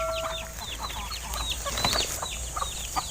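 Backyard chickens clucking in a Philippine coop, several birds making short, repeated calls close by and overlapping, with no talking.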